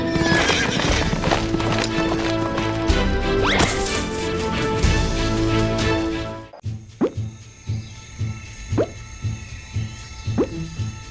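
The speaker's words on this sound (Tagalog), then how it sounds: "Takbo na, kabayo! Takbo!" A horse gallops with loud, rhythmic clip-clop hoofbeats and whinnies over a busy dramatic backdrop, then after a sudden cut the hooves sound as distinct, spaced thuds in a quieter scene.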